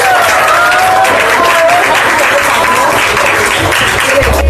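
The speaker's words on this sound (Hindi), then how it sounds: "गाइस, ताली बजाना चाहिए था इसको" Loud, dense audience applause from a large crowd, continuous and close throughout, with faint voices mixed in.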